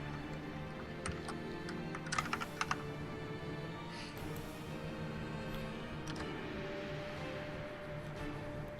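Someone types on a computer keyboard nearby, bursts of quick clicky keystrokes with brief pauses and a faint steady background hum.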